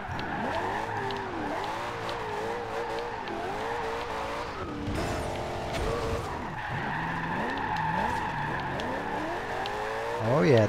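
A Corvette ZR1 drifts in the Forza Horizon 2 racing game, its engine revving and shifting while tires screech and skid steadily through the corners.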